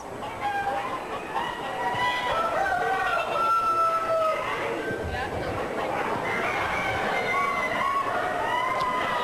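Chickens and roosters in a poultry barn at the Wisconsin State Fair, West Allis, 1985: repeated rooster crows and clucking from several birds, fairly close and loud, over a busy crowd murmur.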